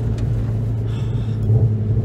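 Ford Focus ST225 engine droning and revving as the wheels spin on an icy road, a steady low rumble that swells slightly toward the end.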